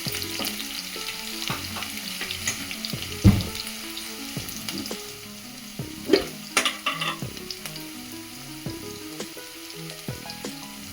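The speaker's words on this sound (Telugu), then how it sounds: "ఉల్లిపాయ కొద్దిగా ఫ్రై అయిన తర్వాత" Onions frying in a pan for a dosakaya (cucumber) tomato curry, with steady sizzling and occasional stirring scrapes and clinks close by, no talking.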